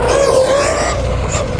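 An Arrma Quake RC car run at full throttle: a loud, close electric-motor whine rides over a steady broadband rush for the whole short burst.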